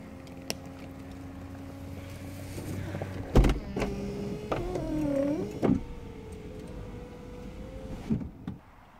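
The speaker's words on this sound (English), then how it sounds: "which has power pop-out rear spoiler and pop-up wind deflector" Electric motor whirring as the power pop-up wind deflector rises on a 2009 Audi TT Roadster, a smooth rising-and-falling whine lasting a few seconds with mechanical clicks and clunks at start and stop, close up.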